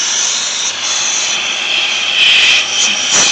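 Compressed air at 40 psi hisses steadily from leaking engine valves, a loud continuous rushing noise that swells slightly toward the end, heard up close with no talk.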